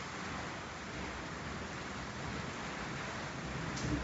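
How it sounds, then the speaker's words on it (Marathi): Heavy rain pouring onto a balcony, a constant dense hiss of water falling and splashing, steady and fairly loud, slightly swelling near the end, no voices. "किती पाऊस पडत आहे आमच्या गॅलरी मध्ये,"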